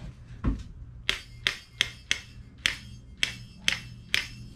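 A hammer taps a Shimano brake hose fitting into place on an Ibis Mojo HD5 mountain bike, seven sharp, close metallic strikes at a steady, roughly half-second rhythm after an initial softer knock, with no talk.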